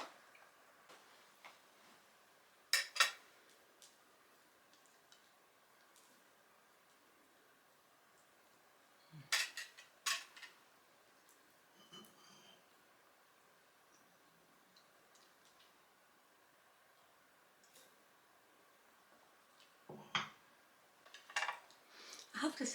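Cutlery clinks and taps against a plate while crumpets are eaten, producing sparse, sharp clicks scattered across a quiet room, with a few louder clusters of scraping and tapping.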